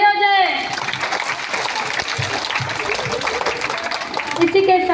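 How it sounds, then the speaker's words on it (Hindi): An audience at a school Hindi Diwas celebration gives a burst of applause for a student's poem, a dense, fairly loud wash of clapping that fills the whole stretch, with a voice briefly at the start and end. "बहुत बढ़िया आलिया, जोरदार तालियां हो जाए।"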